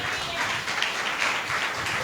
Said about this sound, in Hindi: ताली तो बजाओ भाई।